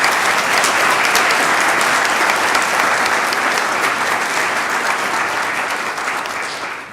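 A city council meeting audience claps for local basketball teams, sustained loud applause from a packed room that holds steady for several seconds before tapering off at the end.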